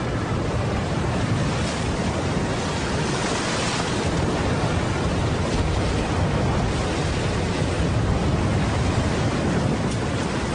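Stormy ocean waves and howling wind of a typhoon at sea roar in a dense, unbroken wash of noise, loud and constant throughout.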